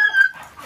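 A dog gives a brief, high yip or whimper close by, a single short call that fades quickly.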